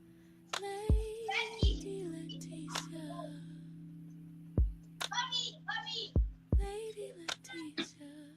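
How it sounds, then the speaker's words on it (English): Children playing outside an apartment, their high voices and shouts drifting in faintly from a distance beneath a steady indoor hum and a few soft thumps, no nearby talk. "So I've got kids playing outside my apartment."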